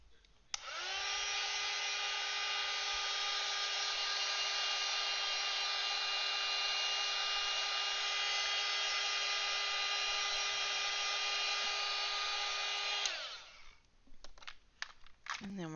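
A hair dryer drying paint on an artwork runs as a steady, loud, close whir for about twelve seconds, then cuts off, followed by faint handling noises.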